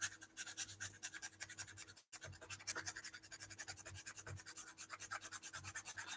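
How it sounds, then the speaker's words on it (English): A hand file worked over a plastic part in fast, even back-and-forth rasping strokes, close and continuous with one brief pause. "Filing is really boring."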